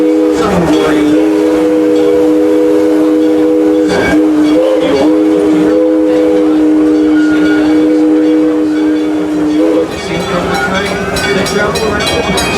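A smoking green locomotive on the Six Flags railroad, with loud steady engine noise, a sustained horn tone lasting several seconds, and rolling rail clatter, while someone talks over it.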